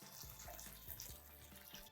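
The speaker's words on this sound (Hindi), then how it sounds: "इसमें डालेंगे पानी," Water runs and splashes into a pot of soaked, drained rice being cooked with ghee for pulao, a soft continuous trickle with faint clinks, heard quietly and without talk.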